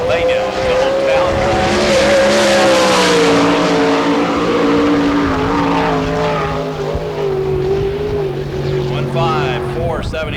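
Sprint cars roaring around the dirt oval at Barberville, Florida during All Star Circuit of Champions Speedweek, a loud continuous engine drone rising and falling as cars pass, with commentary over it.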